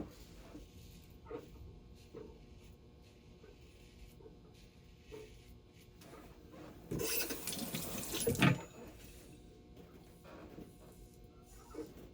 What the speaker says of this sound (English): I usually rinse the razor in cold water.